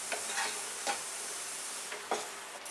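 Masala for Nagpuri Saoji chicken curry fries in oil with a steady dense sizzle, broken by a few soft stirring scrapes, close and moderately loud.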